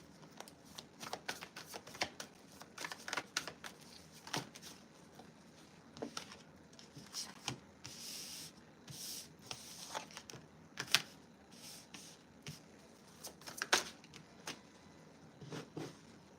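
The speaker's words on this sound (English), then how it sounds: "I'm going to pull some cards and we'll get started." Tarot cards are shuffled at close range during a live stream, with soft repeated riffling and patting bursts scattered irregularly through a quiet room.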